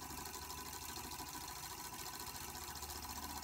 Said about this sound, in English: I put some water in the boiler, lit a fire underneath it and had a look to see if it would run